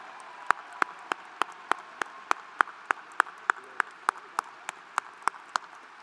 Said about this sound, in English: Big round of applause for our faculty and staff.